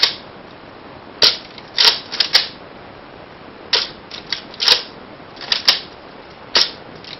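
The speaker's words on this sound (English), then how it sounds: "I'm just going to fire 3 individual rounds from each blaster" Nerf Raider foam dart blaster fired repeatedly, sharp clacking pops arriving in irregular single and paired bursts with short gaps, close and fairly loud, no talking.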